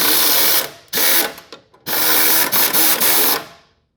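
Impact gun zips rusty bolts off a WRX during a clutch job, several loud close whirring bursts separated by short gaps before the sound cuts off.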